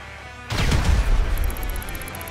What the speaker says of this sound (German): Ich sehe nur, dass die Landschaft gerade explodiert.